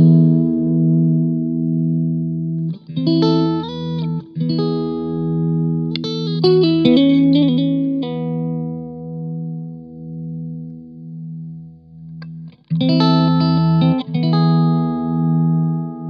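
Electric guitar played through a Blackstar Silverline amp while its ISF tone control is swept, sustained chords and ringing notes with effects-heavy, reverberant shimmer, loud and close with brief gaps between phrases.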